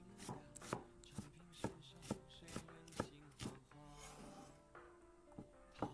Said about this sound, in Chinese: 再准备半个洋葱，切成小碎丁。